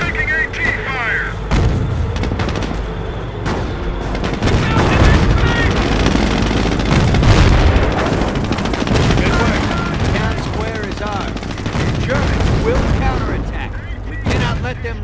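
Anti-tank fire hitting a Sherman tank in Company of Heroes, a dense, loud barrage of booming cannon shots and machine-gun bursts, with voices shouting over the continuous battle noise.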